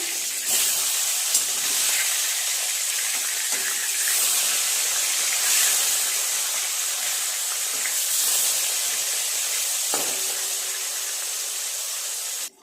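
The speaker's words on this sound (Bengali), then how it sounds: "তেল দিয়ে দেবো মাছ ভাজার জন্য" A dense, even sizzle of katla fish in hot oil fills the pan, close and loud, broken by a few sharp pops and spatters.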